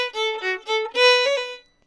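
A fiddle plays a short phrase of the folk tune "Mussels in the Corner", bright bowed notes with a forceful bow accent adding a stronger stroke midway before the final note fades, solo and close.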